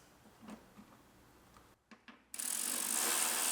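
A ratchet clicks in short, faint bursts while tightening bolts on the cowl of a Fox body Mustang GT, followed by a loud hiss of broadband noise.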